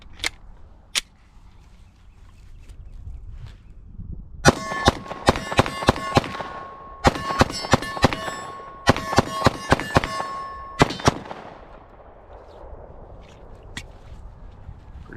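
A Glock 19X pistol fires in quick strings of rounds, sharp cracks in three rapid bursts with ringing metallic echoes between them, plus a few isolated shots before and after.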